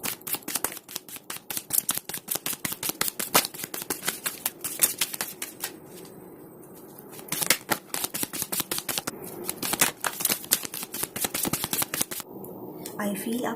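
Tarot cards being shuffled by hand, a dense, rapid run of crisp papery clicks and snaps close by, continuing with short pauses throughout.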